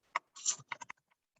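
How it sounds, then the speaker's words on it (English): Quiet bursts of typing on a computer keyboard while text is entered into PowerPoint, a few quick clustered keystrokes followed by sparse isolated taps, close and soft. "so you just simply click and start typing"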